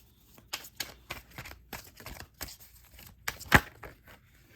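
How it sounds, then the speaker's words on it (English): Tarot cards being shuffled by hand, a series of close, soft riffles and slaps in irregular bursts, with one sharper snap near the end. "So now let's actually shuffle and see what else we're getting here."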